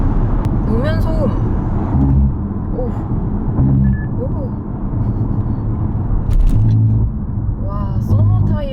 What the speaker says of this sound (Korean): 노면 소음.